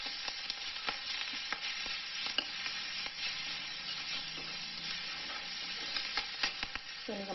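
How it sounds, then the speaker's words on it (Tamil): Ginger garlic paste sautés in a pan with a steady crackling sizzle, dotted with small pops and stirring scrapes throughout. "இப்போ இதில் நம்ம அரைச்சி வச்சுருக்க இஞ்சி பூண்டு பேஸ்ட்டை சேர்த்துக்கலாம். நல்லா வதக்கிக்கலாம்."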